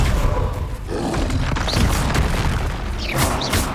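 Booming Confringo spell blasts from Hogwarts Legacy make a dense, continuous wall of heavy thuds and crashing rumble, loud and close throughout the fight, with no talk.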